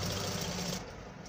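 A sewing machine stitches a cut-band collar with a steady, loud mechanical whir that runs continuously and eases slightly lower partway through; no voices.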